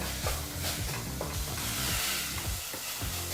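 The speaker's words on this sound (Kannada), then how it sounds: "ಈ ಟೊಮೊಟೊ ಹಣ್ಣನ್ನು ಎರಡು ನಿಮಿಷ ಚೆನ್ನಾಗಿ ಬೆರೆಸಿ ಬಿಸಿ ಮಾಡಿಕೊಂಡು ಫ್ರೈ ಮಾಡ್ಕೋಬೇಕಾಗತ್ತೆ" Chopped tomato frying with ginger garlic paste in a hot pan for pulao, a steady loud sizzle with the scrape of stirring running throughout, no voices.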